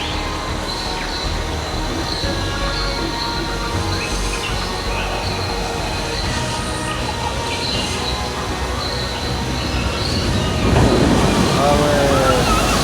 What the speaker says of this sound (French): L'attraction rivière Jurassic Park.